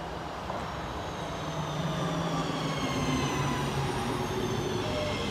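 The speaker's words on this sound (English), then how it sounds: "there's a train coming in now" A train pulls into a station near Disley and New Mills in England, its broad rumble and rail noise rising steadily and growing louder, with faint high squealing tones drifting across.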